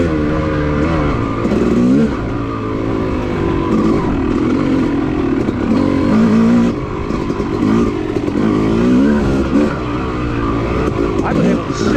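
A motocross bike set up for woods riding runs loudly along off-road trails at Enoree OHV, its engine droning and surging steadily throughout, with a rider's voice talking over it.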